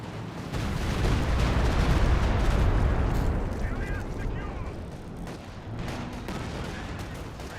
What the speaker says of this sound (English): Six Foos barrage running on in